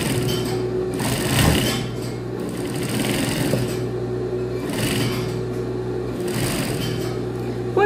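Sewing machine stitching the waistband seam of a pair of jeans, running as a loud, steady mechanical hum with brief surges in speed.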